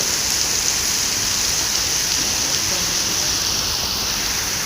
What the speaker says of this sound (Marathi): ते बघा आता पूर्ण पाऊस सुटला इथं